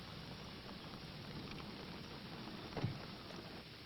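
Steady, faint rain falling as a constant hiss of drops on surfaces, with one brief louder knock partway through and no voices.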